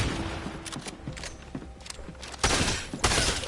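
Automatic turret in the video game Fortnite firing at a player, rapid bursts of gunfire that turn louder and heavier toward the end.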